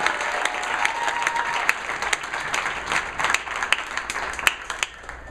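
Senior day crowd at a track and field meet applauding a runner, a steady wash of clapping with scattered sharper claps and no talking, holding fairly even throughout.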